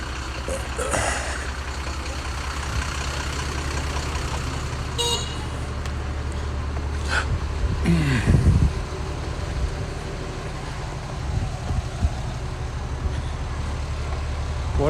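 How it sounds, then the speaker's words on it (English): Bus pulling up on a town street in Zhangjiajie, China, during the Chinese New Year holiday, with a low engine rumble, a brief honk or two and passing traffic around it. "the bus coming here."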